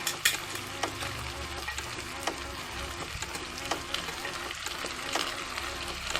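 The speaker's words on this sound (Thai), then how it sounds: "จากนั้นเราก็จะใส่ใบของคะน้าตามลงไปเลยค่ะ" Chinese kale leaves and pork stir-frying in a pan, a steady close sizzle with repeated scraping stirs and clatters of the utensil against the pan throughout.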